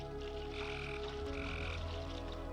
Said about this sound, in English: Toads croak and cats meow.